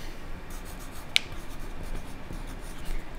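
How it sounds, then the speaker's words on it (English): A pencil writes on paper while someone composes a short sentence, giving soft scratchy strokes and one sharp tap, faint and close with no talking. "I have to write a little sentence about it."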